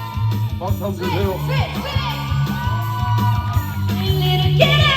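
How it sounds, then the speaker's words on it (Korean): A crowd at a local amateur festival preliminary cheers, whoops and yells during a performance of a rock song. The cheering rises and swells over loud live band music with a heavy bass beat. "박수 한번 주세요"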